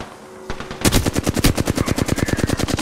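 Rapid automatic gunfire in an online shooter match, a few single shots followed by a long, loud, evenly spaced burst close up, with no talking over it.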